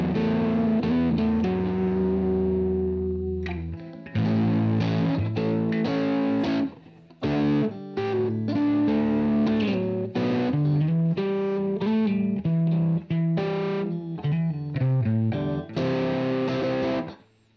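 Electric guitar played through heavy distortion with unwanted fuzz from faulty cables, loud chords and riffs in choppy bursts with short gaps between phrases, no talking.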